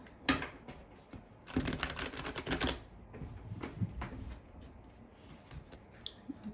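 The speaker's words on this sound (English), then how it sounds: "One more shuffle." Tarot card shuffling with quick riffling bursts and soft slaps, a dense flurry in the middle, then lighter handling sounds.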